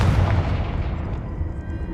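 A Confringo explosion spell cast in a video game: a single low, booming blast at the start that rumbles and fades away over the next two seconds, with no talking.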